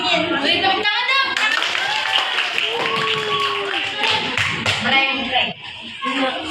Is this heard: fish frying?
no